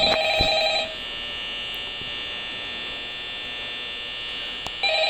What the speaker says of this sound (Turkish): Ya kapat telefonu.